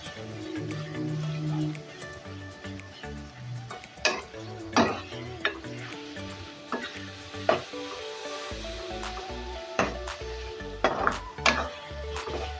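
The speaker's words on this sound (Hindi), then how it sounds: "इसमें इस टाइम हम लहसुन और अदरक का पेस्ट इसमें ऐड कर लेंगे और इसे इसके अंदर अच्छी तरह से मिक्स कर लेंगे" Garlic-ginger paste is stirred into keema frying in a pan, with sizzling and repeated utensil scrapes and clinks heard close up beneath steady tonal background music.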